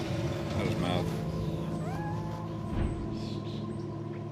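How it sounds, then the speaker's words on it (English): Young orphaned kittens found during a wildlife rescue give thin, high meows, a few faint short calls scattered over a steady outdoor background hum with some low noise. "These are young kittens, boy."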